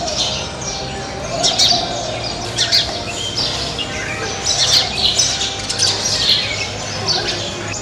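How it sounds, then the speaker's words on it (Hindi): House sparrows chirp from nests packed into the corners of a home in old Lucknow, with a dense, busy chorus of overlapping short tweets and squawks close by, continuous and lively with no talking. "घर के हर कोने में अब गौरैया के घोंसले नजर आते हैं और चिड़ियों की चहचहाहट से ये घर गूंजता रहता है"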